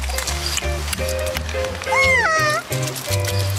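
A cat meows with a rising, wavering cry near the middle, amid other household sounds and some voices.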